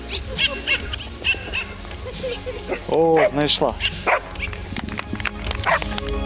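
A search dog hunting for a toy hidden in one of several boxes makes dog sounds amid a loud outdoor crowd with a steady high insect-like buzz, while people talk over it.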